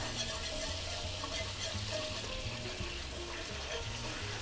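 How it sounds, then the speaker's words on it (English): Butter and flour sizzle steadily in a pot as a roux is whisked for a spicy Creole shrimp étouffée, a continuous close frying hiss with soft scraping throughout and no talking. "the butter all nice and melted. And then we're going to whisk in our flour. Get this roux going."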